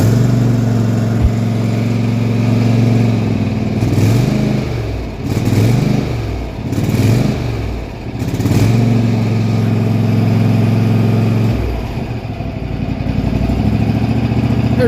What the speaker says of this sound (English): There she goes, she idles.